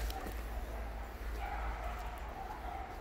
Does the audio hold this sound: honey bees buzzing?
no